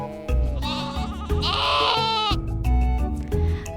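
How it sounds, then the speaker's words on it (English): Sheep bleating in an animated children's farm-animal story, several loud wavering bleats in succession filling the clip, close and clear with no talking. "I see a woolly sheep looking at me."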